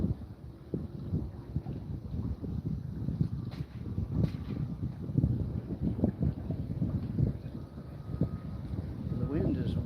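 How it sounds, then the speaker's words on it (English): Strong wind buffets the microphone outdoors at a fishing spot by the water, a steady rough roar with gusty swells throughout, while someone talks over it. "The wind is whipping here though. Wind is ripping."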